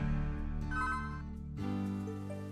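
A telephone rings in a staged reenactment, giving two bursts of bright electronic ringing separated by a short gap, clear and close with no talk.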